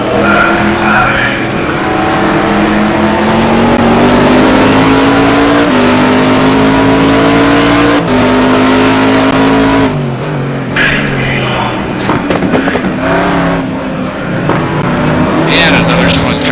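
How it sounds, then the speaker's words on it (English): A GT1 race car spins on a wet, damp track at Anderstorp, engine revving and dropping with long tire squeal and skidding, loud and close, followed by other cars roaring past, with commentary talk over it. "Another spun car there."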